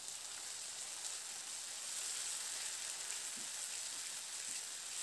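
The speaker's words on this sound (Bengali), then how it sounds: "আদা রসুন আর টমেটোটা দিয়ে একটু নাড়াচাড়া করে নিয়েছি।" Onion, ginger garlic paste and tomato fry in a pan with a steady soft sizzle like light rain, plus a few faint stirring taps.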